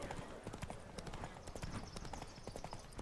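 Rapid hoofbeats clip-clop along at a fast galloping rhythm during a horse race in the video game The Witcher 3: Wild Hunt, steady and close, over a busy background with faint voices.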